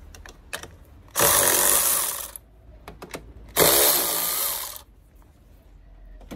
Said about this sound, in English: So we'll just start by undoing these terminals.